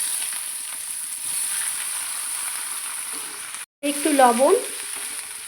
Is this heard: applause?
no